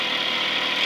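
A 1955 Mercury 5 HP Mark 5 outboard motor running in forward gear, a steady close buzzing drone with no break over the short stretch.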